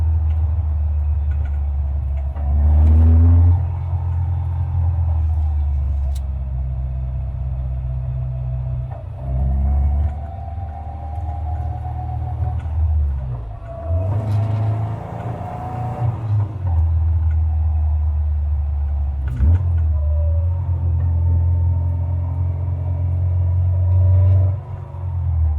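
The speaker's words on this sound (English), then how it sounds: "I'm going to take the car out for a run" Car driving out on the road, a close, steady low engine rumble from inside the vehicle that rises and falls through several gear changes and accelerations, with no talking.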